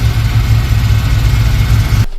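A Subaru engine swapped into a Volkswagen T3 van idles loudly and close by with a deep, throbbing low rumble, then cuts off abruptly near the end.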